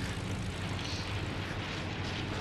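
Airplane engine in Fortnite, a steady, loud droning roar that holds evenly throughout with no talk over it.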